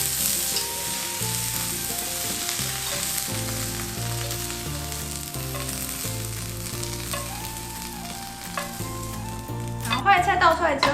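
Cauliflower stir-fried in a wok, a steady sizzle and stirring heard under prominent background music throughout, louder clatter near the end.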